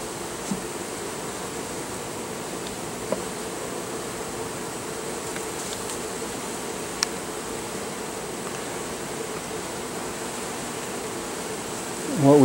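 Soft, steady buzzing of many honeybees from a queenless swarm around a hive, a low hum with a few faint clicks and bumps, no talking.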